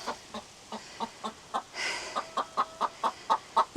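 A chicken near the coop at sundown gives a steady series of short, evenly spaced clucks, close by and clear, broken once by a brief rustle of movement in the middle.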